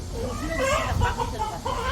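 Rooster at a farm giving a crowing call, moderately close, rising and falling cries standing over faint background voices and low rumble.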